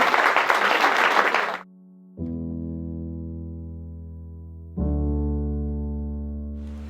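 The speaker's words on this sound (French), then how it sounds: "On vous applaudit encore une fois les enfants." An audience applauds children at a sailing regatta event. The dense clapping lasts about a second and a half, then cuts off abruptly, and sustained electronic tones follow.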